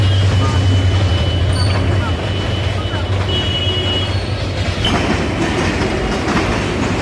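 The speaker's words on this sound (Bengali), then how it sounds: "গাইস এদিক দিয়ে এখন ট্রেন যাবে" A train rolls past a level crossing in Bogura, Bangladesh, loud and close, with a continuous heavy rumble, wheel clatter and faint squeals throughout.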